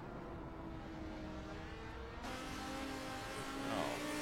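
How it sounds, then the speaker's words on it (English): A damaged race car in a racing video game drones along with a steady engine hum and whining harmonic tones, the note shifting partway through and rising slightly near the end, with no talk over it. "listen to his car."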